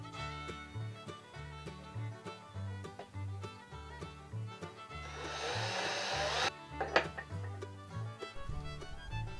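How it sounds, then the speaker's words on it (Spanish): Drill boring holes the width of the screws through a wooden support for a homemade knife sharpener: a steady motor whine with rhythmic pulsing, a louder rasping burst near the middle as the bit bites into the wood, close up, no talking. "Con una broca del grosor de los tornillos, perforamos el soporte"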